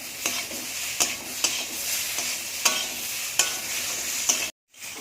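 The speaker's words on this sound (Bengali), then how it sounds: "আদা জিরে লঙ্কা বাটা দিয়ে অল্প একদম সামান্য পরিমাণ" Fish sizzles and fries in a pan with ginger, cumin and chili paste, steady hiss broken by several sharp spatula scrapes and clacks, ending abruptly in silence near the end.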